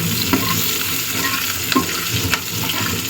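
Onions sizzle loudly while being stirred and fried in a pan for a home curry, the constant hiss broken by a few scraping spoon strokes, with no talking.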